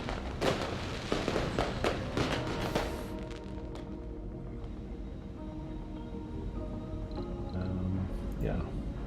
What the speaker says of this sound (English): Yeah, not sure what those fireworks were for.